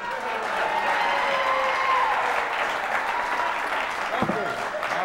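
A canned applause sound effect plays during a home talk show, a crowd's steady clapping with light cheering running evenly throughout, with a voice or tone faintly audible beneath it.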